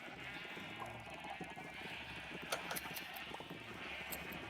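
In the Minecraft video game, sheep bleat faintly amid hollow clip-clop steps and several sharp clicks over a steady game hum for several seconds, without speech.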